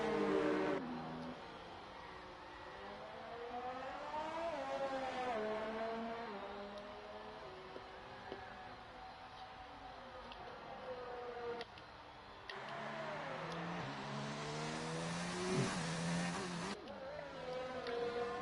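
Race cars lapping a circuit during qualifying, engines droning and shifting pitch as they pass, with a louder surge of engine noise near the end; steady and somewhat distant throughout.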